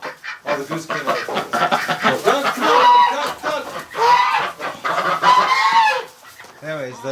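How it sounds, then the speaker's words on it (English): A goose honks repeatedly and loudly among a flock of Muscovy ducks and other fowl in a straw-bedded winter barn, the honks overlapping a busy chorus of nearby calls. "Oh, the goose came out."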